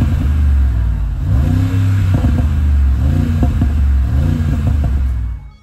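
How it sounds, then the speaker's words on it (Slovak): Mercedes-AMG G63 with a biturbo V8 and side-exit exhausts beneath the passenger doors, heard from inside the cabin as a loud continuous drone with repeated rising and falling revs, fading out at the end. "že na dnešné pomery počuť túto V8 nie len vonku,"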